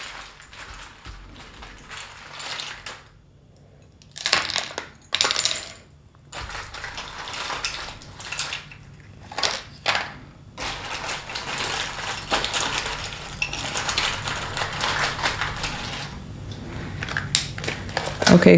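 Small metal charms are shuffled and rattled by hand in bursts of bright, dense clinking and jingling, with short pauses between shakes and then a longer run of continuous rattling.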